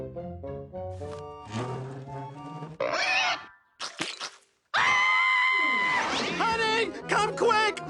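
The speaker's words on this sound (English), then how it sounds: "Our chair squeals like a pig!" Cartoon chair in an animated episode gives off a squealing, pig-like sound, a run of high wavering squeals and grunts in bursts separated by short gaps, loud and close.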